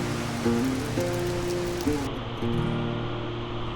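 Steady rain falls in Switzerland, a dense, even hiss that stays near and constant throughout, with low sustained tones shifting in pitch running underneath and no voices.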